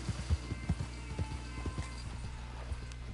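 Horse hooves clip-clop in a steady, fairly close rhythm on the ground in Red Dead Online on PlayStation 4, a run of distinct thuds with no talk over them.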